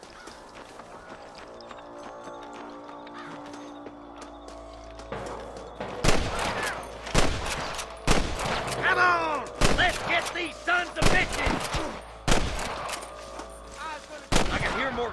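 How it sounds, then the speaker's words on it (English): Gunfire erupts in Red Dead Redemption 2 as repeated sharp shots and bursts crack out close and loud, starting after a quieter stretch of game ambience, with horse hooves and someone shouting amid the shooting. "I can hear more gunshots."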